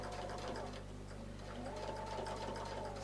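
Sewing machine stitching a curve in fabric, a steady, rapid mechanical whir heard close and fairly quiet throughout, with no talking.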